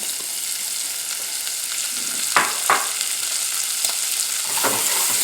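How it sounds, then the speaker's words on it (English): Bacon and diced onion frying in a pan, a steady close sizzle with a few soft clinks and stirring scrapes, no talk. "So the bacon's been frying."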